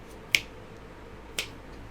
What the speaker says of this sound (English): I like snapping my fingers.